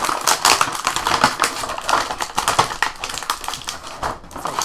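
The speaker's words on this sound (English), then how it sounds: "lot of loud crinkly noises." Plastic packaging on a toy figure crinkles loudly during unboxing, a dense, close run of rapid crackles and rustles that continues throughout without speech.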